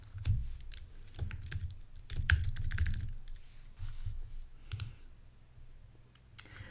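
Computer mouse clicks on a desktop, a sparse series of sharp close taps scattered irregularly across several seconds, with no talking.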